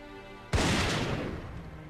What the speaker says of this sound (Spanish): Los cazadores blancos, como Frank Mayer, solo emplean un disparo.